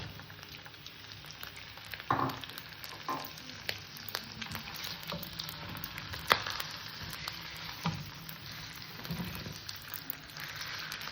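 Marinated chicken hitting hot oil with ginger-garlic masala for chicken pulao, a steady close sizzle with a few sharp stirring scrapes and spatters, no talking.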